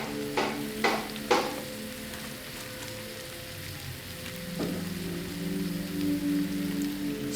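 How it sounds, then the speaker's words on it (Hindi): Chicken masala mixture with garam masala and stick boti masala fries in a pan for chicken cutlets, giving a steady close sizzle with a few sharp scrapes of stirring near the start and no talking. "इन सब चीज़ों को अच्छी तरह भून लें।"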